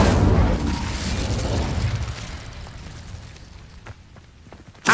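Incendio fire spell cast in Hogwarts Legacy: a loud, close fiery burst that swells and rumbles, then slowly fades over several seconds before a second sharp blast bursts out at the very end.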